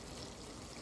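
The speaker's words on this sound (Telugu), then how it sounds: "గ్రేవీ కూడా వేస్తున్నాను కొంచెం" Gravy poured into a drumstick curry, a steady soft liquid pour with a faint trickling wash running quietly throughout, no voices.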